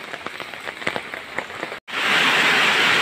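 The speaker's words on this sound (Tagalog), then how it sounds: "So lakas talaga ng ulan mga idol, oh. Tingnan nyo po tulo sa yero, oh." Heavy typhoon rain drips and drums on a corrugated metal roof over a farm, first as scattered separate taps, then after a brief gap as a loud, dense, continuous roar of rain on the sheet metal.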